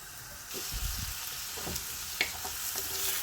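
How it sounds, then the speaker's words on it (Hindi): Chopped onions, two medium ones, frying in oil and desi ghee for sarson ka saag, a steady close sizzle with a few stirring scrapes and soft clatters throughout. "तो इसको फ्राई कर लेंगे, लाइट ब्राउन ही करेंगे"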